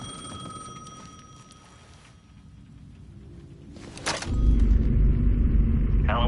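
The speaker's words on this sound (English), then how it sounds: "The payphone was ringing again." A payphone rings in the video game Alan Wake 2, a steady electronic trill for about two seconds, then a deep rumbling ambience swells and fills the rest.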